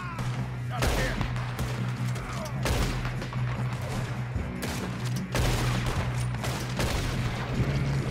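Rapid gunfire during a train robbery in the Wild West game Red Dead Redemption 2, loud bursts of repeated shots over a low steady drone, with voices mixed in.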